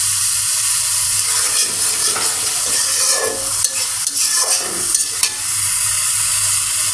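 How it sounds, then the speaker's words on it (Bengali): Hilsa fish pieces sizzle steadily in hot mustard oil, a loud, close frying hiss with occasional stirring scrapes and pops and no voices. "মাছগুলো দিয়ে দিলাম। আর এদিকে যে কলার চালটা ভেজে নিচ্ছি।"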